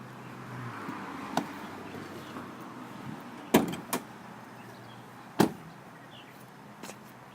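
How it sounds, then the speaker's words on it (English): Inside a 2015 Jeep Renegade, the hood release is pulled: a few sharp latch clicks and thuds, one louder pair, over a quiet interior background. "So I'm going to go inside and open the hood."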